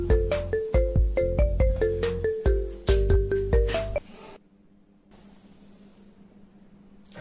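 A mobile phone ringtone plays a bright, plinking melody of quick repeated notes for about four seconds, then cuts off abruptly into quiet hiss with a faint low hum.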